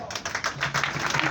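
Audience applause welcoming a president onto a stage builds as a dense patter of hand claps, with talk heard alongside it.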